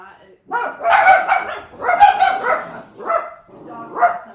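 Several dogs bark in short bursts, loud and close, in four clustered volleys separated by brief pauses, with yips mixed in.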